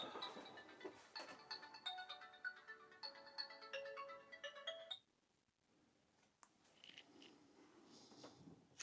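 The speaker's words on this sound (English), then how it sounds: "Do apologise, phone call." A phone plays a melodic ringtone in bright repeating chimes for about five seconds at moderate level, then stops, leaving faint room noise and a few soft handling sounds.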